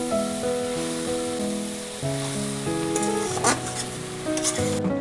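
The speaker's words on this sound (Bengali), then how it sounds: "নেড়ে দিব আর একবার।" Taro stolons cooking with spices in a hot pan give a steady loud sizzle, with scraping stir strokes and a few clinks toward the end, no voices.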